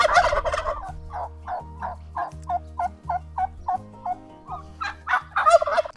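Turkeys on a homestead gobble in a long rapid series of repeated rattling calls, loud and close, with a low hum running beneath and busier bursts at the start and end.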